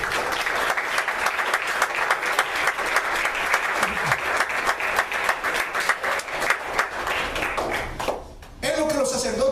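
Sustained applause from a church congregation during a Christmas service at a Nazarene church, dense steady clapping that fills the space before dropping off briefly near the end as a voice resumes.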